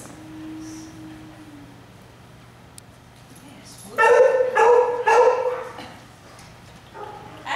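A dog barks in a quick burst of loud, close barks, surrounded by quieter stretches with a person speaking nearby.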